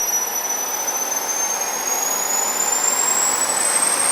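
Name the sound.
small jet turbine engine ramping up in speed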